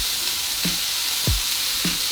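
A hamburger patty fries in a pan with a steady bright sizzle, punctuated by a few soft low thumps or pops, close and continuous with no talking.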